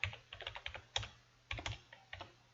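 Formula typed into an Excel spreadsheet cell on a computer keyboard, quiet close keystrokes in short irregular bursts with brief pauses, no talking.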